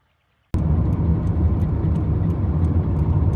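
A car driving through the Arizona desert among saguaro cactus, a steady engine and road rumble that starts abruptly after half a second and holds constant, close and loud.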